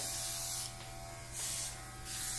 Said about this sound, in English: that airbrush is cool